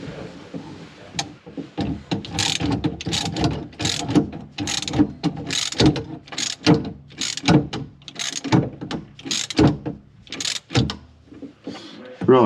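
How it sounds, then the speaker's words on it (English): A ratchet tightens the nut on a bathroom tap in a barn conversion, giving repeated quick clicking strokes in irregular bursts, close and fairly loud, with short pauses between pulls. "Let's just make sure the tap's level and get it tightened up."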